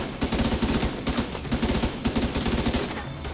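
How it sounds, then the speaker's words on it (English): Rapid, continuous automatic gunfire in The Division 2 video game, loud and close, with rhythmic bursts repeating throughout and no talk over it. "this guy's just non-stop shooting"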